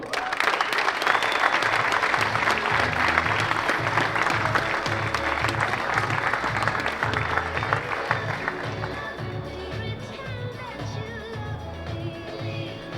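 A crowd at the 2023 European Disc Golf Championship claps warmly for the players, loud sustained applause that gradually thins and fades toward the end over a low rhythmic background hum.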